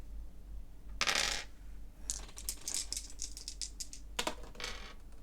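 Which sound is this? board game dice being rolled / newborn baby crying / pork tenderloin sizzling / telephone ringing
board game dice being rolled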